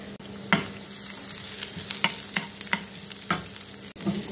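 Onion and garlic fry in hot oil in a pan, a steady close sizzle punctuated by regular scraping stirs of a utensil against the pan.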